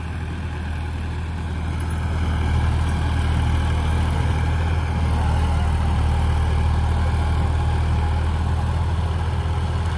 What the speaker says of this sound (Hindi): आज हमने आपको 50-50 ई ट्रैक्टर की परफॉर्मेंस दिखाई है